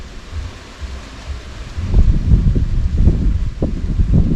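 Outdoor wind gusts around a smoker fire while cheese is being smoked. Soft at first, the rumbling buffets grow louder and choppier halfway through and keep surging until the end.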